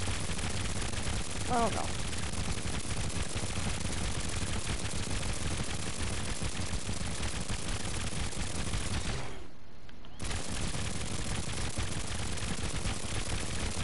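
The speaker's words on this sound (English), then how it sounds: "Try and glide most of the way there so you guys don't have to constantly hear gunfire" Constant gunfire from a Trailmakers video game battle around an aircraft carrier, a dense unbroken rattle of shots that drops out briefly for under a second, with a short spoken exclamation early on.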